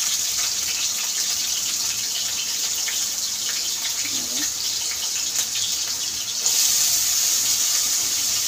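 Tap water runs steadily while potatoes are washed in a kitchen, a continuous close hiss that briefly grows stronger near the end.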